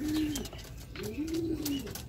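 Racing pigeon at its home loft after a sprint derby race: two soft, low cooing calls, close but quiet, over faint background noise.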